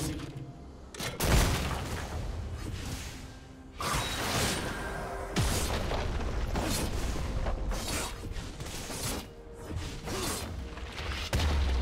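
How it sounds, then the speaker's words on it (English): Chaotic League of Legends mid-lane fight with Gangplank and Katarina ending in a turret being destroyed: dense layered booms, whooshes and clanking impacts, with a heavy crash near the start and repeated bursts throughout, loud and continuous. "Red team's turret has been destroyed."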